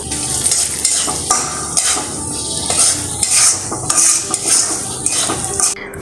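Onions and green chillies sizzle in a pan while a spoon scrapes and stirs, giving repeated metallic clinks and scrapes over a steady frying hiss, close and fairly loud.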